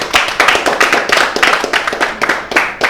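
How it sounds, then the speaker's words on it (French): Audience clapping to welcome a guest onto a French talk show stage, a close, loud burst of uneven hand claps with a crisp, slightly rhythmic patter that stays steady for a few seconds. "Mesdames et messieurs, avec beaucoup de plaisir, on va applaudir pour accueillir parmi nous Petit Bozza."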